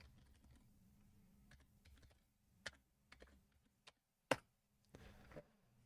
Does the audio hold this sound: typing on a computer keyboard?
yes